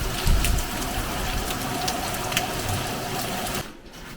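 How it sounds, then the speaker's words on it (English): Torrential rain mixed with hailstones pounds down on Portugal's coastal Fisherman's Trail near a fishing village, a dense loud patter with sharp ticking impacts that cuts off abruptly near the end. "Good, apart from the hailstones and the torrential rain."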